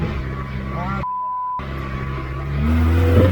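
A homemade 4x4 buggy's engine runs with a rough low drone, dips sharply for a moment, then swells louder as the throttle opens toward the end. A voice is heard under the engine noise.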